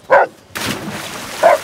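Dog barks in the Shadow Tactics: Blades of the Shogun video game, two short, loud, close yaps separated by a stretch of duller noise, with no talking.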